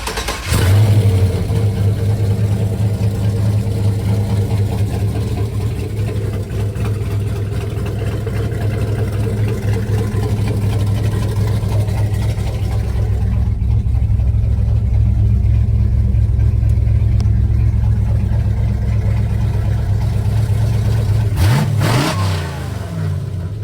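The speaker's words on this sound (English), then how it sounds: "1932 Ford Coupe." A 1932 Ford three-window coupe hot rod engine runs loud and close with a deep, steady idle and rumble throughout, swelling slightly midway before a brief change near the end.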